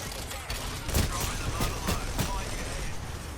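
Rampart's minigun fires in Apex Legends, heard as several loud bursts of rapid gunfire over a busy, noisy battle.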